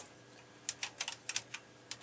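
Keys clatter on an Amstrad CPC 464 home computer keyboard under restoration, a quick irregular run of about a dozen crisp clicks, close and fairly quiet against a faint hum.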